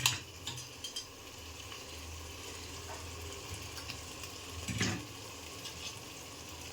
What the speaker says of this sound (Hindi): तो थोड़ा सा कीमे को भून लेंगे।